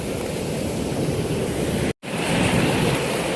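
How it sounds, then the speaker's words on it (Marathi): Small waterfall spilling over rocks, a steady dense rush of flowing water close by, continuous apart from a brief cut in the middle, with no talking. "हे बघा छोटे वॉटरफॉल आहेत."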